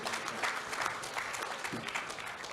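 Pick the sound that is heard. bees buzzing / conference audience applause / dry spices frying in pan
conference audience applause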